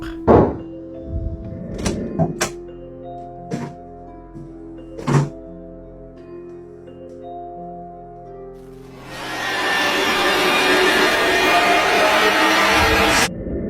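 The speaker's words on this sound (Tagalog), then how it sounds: "Nakakapangilabot ang katok na ito sa pintuan ng kanilang CR." Several irregular, hollow knocks on a bathroom door, spaced over a few seconds and fairly close, then a loud steady rushing noise that takes over near the end.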